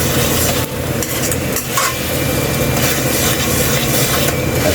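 Milkfish (bangus) hisses and sizzles loudly in a hot pan, with a steady frying crackle and occasional stirring scrapes throughout.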